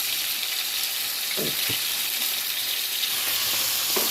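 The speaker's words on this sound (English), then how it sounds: "And I'm gonna stir everything, stir it in so you can get some nice color." Ground beef and vegetables fry with ketchup and barbecue sauce in a pan, giving a continuous dense sizzle, with a few soft scrapes of stirring heard underneath.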